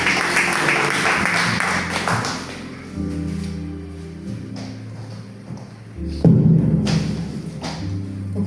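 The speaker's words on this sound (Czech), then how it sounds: "Můžeme ji prosím přivítat potlesky." A church congregation claps to welcome a woman to the stage: a dense wash of applause for a couple of seconds that fades out as low instrumental music takes over.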